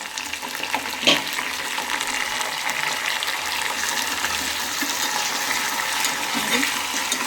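Curry leaves dropped into hot oil alongside lightly roasting ginger, giving a steady broadband sizzle and crackle with a brief sharper pop near the start, close and continuous.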